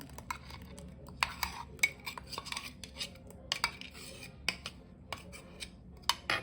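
Scraping and clinking of a utensil against a bowl as ground paste is scooped into it, irregular light taps and scrapes, close and fairly quiet, with no talking.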